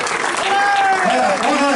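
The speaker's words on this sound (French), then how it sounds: "Je crois qu'on peut les applaudir très très fort." An audience claps for the cyclists on the podium after the Crito'Star race in Choisy-le-Roi, a short burst of steady applause mixed with voices and cheers.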